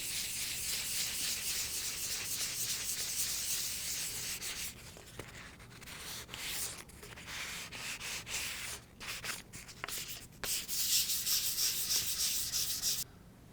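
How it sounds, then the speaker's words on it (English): Hand sanding with 400 grit sandpaper lightly scuffs the painted hub of a Hartzell composite propeller, a steady close abrasive rubbing that runs continuously with brief pauses and shifts in stroke partway through. "I'm going to use 400 grit sandpaper"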